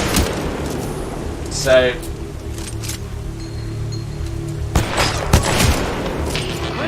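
Enemy sniper fire in the Titanfall 2 campaign: a few sharp, separate shots ring out amid game ambience, with someone talking over much of it.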